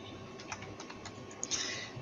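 Password typed on a computer keyboard into a dialog box: a quiet run of light, irregular key clicks, ending in a slightly louder burst of taps, with no voice.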